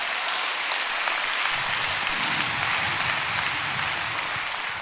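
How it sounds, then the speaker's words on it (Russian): A church congregation applauds during a prayer-for-healing crusade service, sustained thick clapping from a large crowd filling the room at an even, loud level throughout. "Дайте хорошие аплодисменты Богу."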